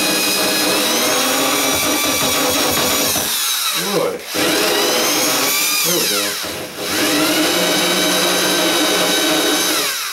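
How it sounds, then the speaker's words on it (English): A power drill runs loudly and steadily, briefly stopping twice before starting again, with someone speaking a few words over it. "I guess I should keep the drill on kind of low, not high."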